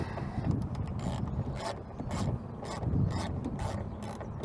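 A ratchet removes 10 mm bolts from the fan shroud of a 1999 Dodge Ram 1500, giving close, continuous rapid clicking with small surges in loudness and no talk.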